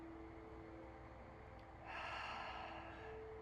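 Deep diaphragmatic breath during a core exercise for women over 40, heard as a soft, steady airy rush that swells partway through and holds, close and quiet with no talking.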